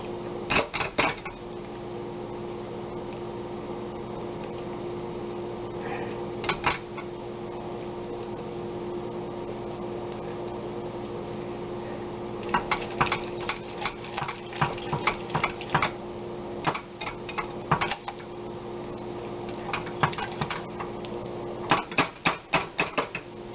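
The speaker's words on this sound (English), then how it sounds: "we're going to keep whisking this" Christmas ham glaze whisked in a pot, bursts of rapid metallic tapping and scraping against a steady stovetop hum, close, with quiet stretches between bursts.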